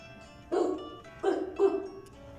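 Someone imitates a dog with three short, punchy barks, loud and close, separated by brief pauses.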